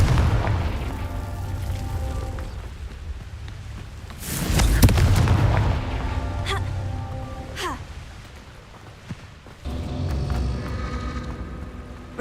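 Confringo fire spell explosions in Hogwarts Legacy, a heavy booming blast near the middle followed by fainter impacts, crackling debris and a low rumbling game soundscape, with no talk over it.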